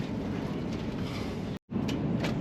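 Frecciarossa 1000 high-speed train running through a series of tunnels out of Florence, a steady loud rushing roar with a brief near-silent gap before the rumble resumes.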